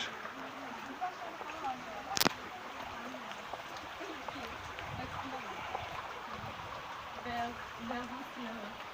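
A stream flows with a steady, soft rushing hiss while someone talks over it, and one sharp knock cuts through early on.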